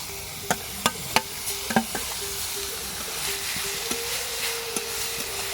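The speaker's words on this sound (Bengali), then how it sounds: "এবার আমি এর মধ্যে গ্রেট করে রাখা কুমড়ো দিয়ে দিচ্ছি" Grated pumpkin dropped into a hot pan and stir-fried, opening with several sharp spoon knocks against the pan, then a steady close sizzle with occasional scrapes, no talk.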